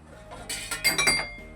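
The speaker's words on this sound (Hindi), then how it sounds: "अब हम इसको ढक्कन लगा रहे हैं।" A metal lid goes onto a pot of rice in a home kitchen, a short cluster of bright clinks and rattles as it settles, close and fairly loud over a faint steady hum.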